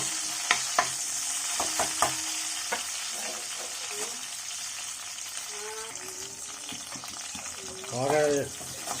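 Green chillies frying in oil in a pan for a South Indian seafood curry, a soft steady sizzle with a few sharp clicks and stirring knocks, and a faint voice rising briefly near the end.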